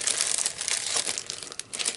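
Sheets of paper are pulled from a rubber stamp kit, crinkling and rustling in close, busy bursts for about two seconds, with no voices.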